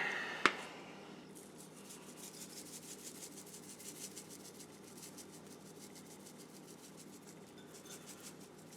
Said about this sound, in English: Let's get our rub on.